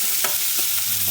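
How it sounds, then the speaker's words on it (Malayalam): Onion and green chilli sizzle in a pan as they are stirred and sautéed, a brief burst of close, continuous frying hiss with a few soft scrapes. "പച്ചമുളകും കൂടെ അതിലേക്കിട്ട് നമ്മൾ നല്ലപോലെ ഒന്ന് വഴറ്റിയെടുക്കണം."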